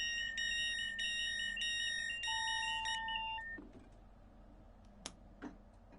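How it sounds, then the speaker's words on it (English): A train's warning buzzer alarm in the railway simulator Train Sim World 2 beeps in a rapid, repeating electronic pattern for about three seconds, then cuts off, leaving quiet cab ambience with a few faint clicks. "Now we gotta hear them buzzers again"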